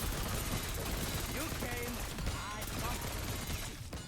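Grau rifle gunfire in Black Ops 6 Zombies, rapid loud shots rattling on over dense game noise, with a voice talking in between.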